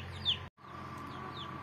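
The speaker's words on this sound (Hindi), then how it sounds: "ये हमारे घर की मुर्गी है, हमने बहुत सारी और भी रखी हुई है," Domestic hen clucking close by at home, a few short calls over a steady background hum, with no talk.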